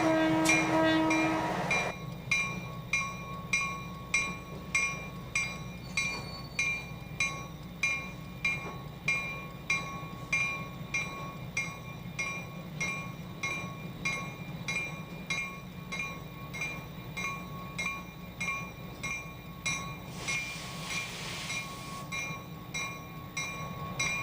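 A locomotive moves on a roundhouse turntable with a steady rumble and a regular clanking rhythm, plus a brief horn-like tone at the start, fairly close throughout.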